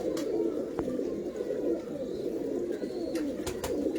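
Grey pigeons coo in a continuous low, rolling murmur close by, with a few sharp clicks and taps breaking through the steady cooing.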